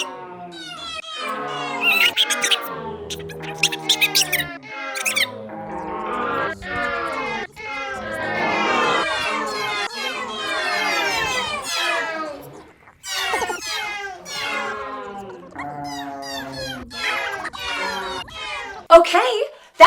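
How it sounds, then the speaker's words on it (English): A cat meows over and over in a steady run of drawn-out, rising and falling cries, close and fairly loud, with brief pauses between calls and no other sounds around them. "I think it's time for some cat!"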